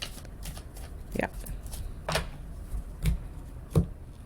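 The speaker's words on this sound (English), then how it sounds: "a few more shuffles here." Tarot cards are shuffled by hand in a series of quick riffling bursts, several crisp short rustles spaced about a second apart, close to the microphone over soft room noise.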